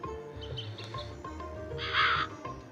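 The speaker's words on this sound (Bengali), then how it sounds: "দেখেন কাকটা কেমন করছে আমাকে" A crow caws in the Meena video game, one harsh, loud call in the middle, set over steady looping game music and effects.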